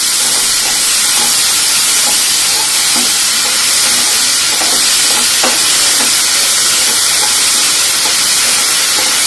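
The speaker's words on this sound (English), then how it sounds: "Since I am sauteing it continuously, I have kept the flame in full" Finely chopped onion sautéing over a full flame after browned garlic for an aloo curry, a loud continuous sizzling hiss with occasional stirring scrapes, close and constant throughout.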